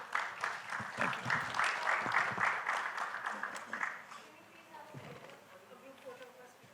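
A conference audience at a fintech summit applauds its speakers with dense, sustained clapping for about four seconds. The clapping then thins and fades, and a voice is briefly heard.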